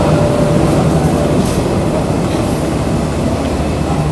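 A passenger train at Pasar Senen station in Jakarta, heard as a loud, steady rumble of rail cars and station noise that continues throughout, with no speech.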